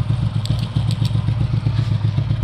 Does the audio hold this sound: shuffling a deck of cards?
no